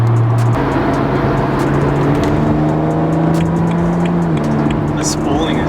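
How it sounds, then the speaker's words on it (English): BMW Z4 with a turbocharged engine, the spooling turbo heard as a loud rising whine over a steady engine drone inside the car, with people talking over it. "The spooling is loud too."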